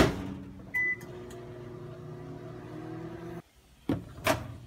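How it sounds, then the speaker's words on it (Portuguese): Microwave oven heating protein mousse for 30 seconds: a steady low electrical hum with a brief beep near the start, then the hum cuts off abruptly, followed by a couple of clicks and door clunks. "eu gosto de esquentar ele no micro-ondas por 30 segundos"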